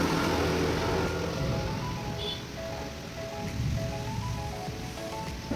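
Heavy rain pours down steadily outdoors, a dense, continuous hiss of drops on surfaces that stays loud and even throughout, with no clear voices over it.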